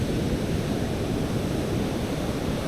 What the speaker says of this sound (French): les vagues sont très grandes, sont très puissantes.